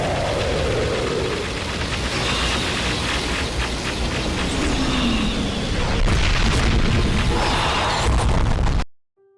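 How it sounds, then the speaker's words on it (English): Sci-fi blaster sound effects from an animated episode fire as booming bursts with sweeping, falling zaps layered over a dense noisy rumble. They run continuously for about nine seconds and then cut to silence. "the sound of Watchmen of Doom's blasters was delayed"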